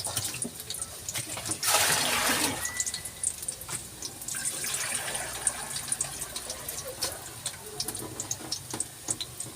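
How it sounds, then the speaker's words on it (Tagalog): Water gushes briefly into a cooking pot of sautéed onions, a short rushing pour, followed by softer trickling and small clinks nearby. "Lagyan natin tubig. Ayan, konti lang."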